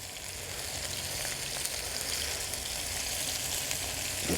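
Chicken strips fry in canola oil in a cast iron pan, giving a steady, dense sizzle and crackle that runs on evenly without a break.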